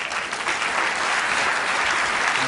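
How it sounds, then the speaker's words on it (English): Audience applause fills a lecture hall as volunteers come up on stage for a math magic show, a steady, full round of clapping throughout. "let's give these volunteers a nice round of applause"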